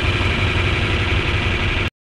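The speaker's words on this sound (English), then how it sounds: "German tractor." A German tractor engine idles steadily at close range, a loud, constant low rumble with mechanical vibration that holds evenly before cutting off abruptly.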